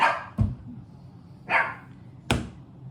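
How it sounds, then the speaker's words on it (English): Three sharp, close barks from small chihuahuas, spaced about a second apart, with short yappy tails and quiet gaps between. "I have two chihuahuas who like to bark as soon as I go on these videos"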